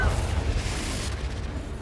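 A Confringo explosive spell in Hogwarts Legacy bursts as a deep, booming blast that rumbles briefly and then thins out, heard alone.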